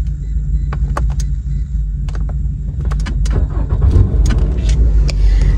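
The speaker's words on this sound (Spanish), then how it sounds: "Así que ya encendí el carro" A car in a car is started as its engine turns over and settles into a steady, loud low idle. Scattered clicks and small knocks sound over the running engine, and no one speaks.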